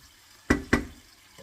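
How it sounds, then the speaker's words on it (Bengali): Water is added to a cooking pot holding potatoes, heard as two brief, close splashing bursts in quick succession against a quiet kitchen background. "আলুটা দেওয়ার পরে আমি আবারও কিছুটা পানি দিয়ে দিচ্ছি।"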